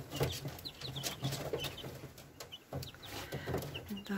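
Nine-day-old chicks in a brooder cluck and peep continuously at close range, their soft chatter forming a steady busy stream of small calls.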